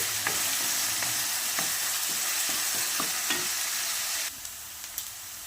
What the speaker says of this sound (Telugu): అలాగే 3 పచ్చిమిర్చి, కరివేపాకు వేసుకుని ఫ్రై చేసుకోవాలండి.